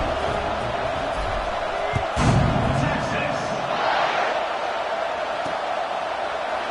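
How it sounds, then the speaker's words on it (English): Football stadium crowd at a Texas vs TCU game buzzing after a touchdown, a steady broad roar with a brief louder swell, under a commentator's voice. "this crowd is buzzing after that last score"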